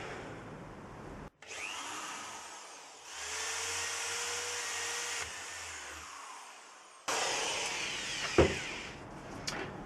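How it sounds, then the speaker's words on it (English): A power drill whines in several sustained bursts with brief stops between them while drilling out rivets on a plastic housing, loud and close, with no one talking. "And drill out all the rivets to remove the plastic housing."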